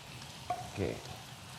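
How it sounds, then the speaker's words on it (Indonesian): Chicken pieces for ayam bakar sizzling on the grill, a soft steady crackle with a brief stir or scrape in the middle, close and fairly quiet, with no talk. "Sambil nunggu ayamnya matang, silakan dijagain."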